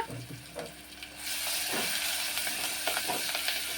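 Onions frying in a pan while a lentil rasam is made: a steady sizzle swells in after about a second and keeps going under a few light scrapes of stirring, with no voice.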